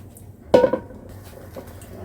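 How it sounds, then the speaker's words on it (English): Meatball sauce is dumped out of a container into a crock pot: a single wet, thick splat with a clattering knock against the pot, loud and close, then only quiet room noise. "I'm going to take my meatball sauce and I'm just going to"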